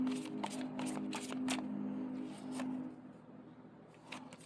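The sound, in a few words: shuffling a tarot card deck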